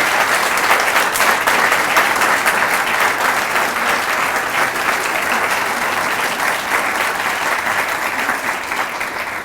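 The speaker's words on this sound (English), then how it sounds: "let's do a round of applause" A standing audience at a bioscience grant announcement gives a long, loud round of applause, dense and sustained clapping from a large crowd that holds steady and eases slightly toward the end.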